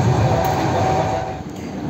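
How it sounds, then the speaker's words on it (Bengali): Express train 12863 from Howrah runs at speed, a steady, loud rumble and rattle of wheels and carriages heard from inside, continuous and alone. "দ্রুত গতিতে ট্রেন তার গন্তব্যের দিকে এগিয়ে চলেছে।"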